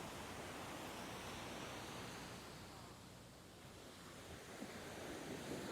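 Strong sea waves break on the shore at Dhanushkodi, a steady, loud roar of surf with wind buffeting the microphone throughout and no voices.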